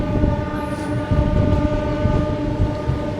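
A passenger train pulls out of platform 5 at Katwa railway station, its loud, continuous rumble close by, with a brief faint high whistle early on.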